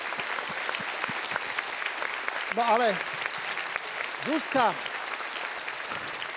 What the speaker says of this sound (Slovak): Takže aj pre takýchto ľudí veľký potlesk v tejto chvíli.